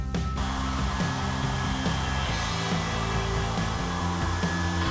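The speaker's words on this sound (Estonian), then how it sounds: "seda kuivatada fööniga." A hair dryer blows steadily on a freshly painted canvas during a painting workshop, a continuous close whir with no talking.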